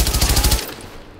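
An MG5 machine gun in Tom Clancy's The Division fires a rapid, loud burst of about eight closely spaced shots, then stops abruptly, leaving a short fading echo.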